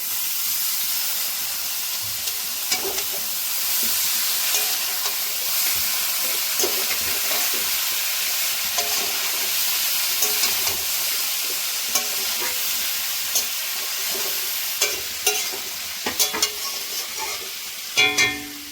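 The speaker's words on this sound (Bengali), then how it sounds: "সেদ্ধ করে রাখা চাউমিন দিয়ে দিচ্ছি।" Boiled chow mein noodles and vegetables stir-fried in a pan give a steady, close sizzle and hiss with scattered scraping and stirring knocks, growing busier toward the end, with no talking.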